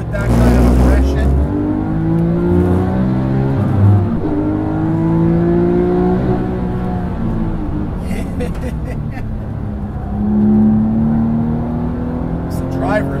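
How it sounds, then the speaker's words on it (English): A Porsche GT car engine revs hard in second gear and climbs in pitch as it accelerates uphill under load, holding a loud, aggressive growl with a brief gear change. "just smashing it in second and climbing that hill with that kind of aggression"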